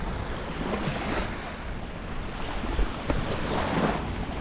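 Sea waves wash continuously around an island near Punnakayal, a broad, loud surf rush mixed with gusting wind buffeting the microphone, with no voices.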